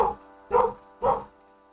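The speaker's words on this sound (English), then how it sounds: "He barked." A dog gives three short barks in a row, the first clipped at the start and the next two evenly spaced about half a second apart, fairly close and alone with no talk.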